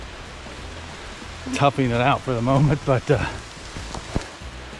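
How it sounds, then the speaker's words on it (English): Heavy rain pours down on a hiking trail on the Appalachian Trail near Dragon's Tooth in Virginia, a constant dense hiss throughout while a person speaks briefly over it. "pretty heavy rain coming down"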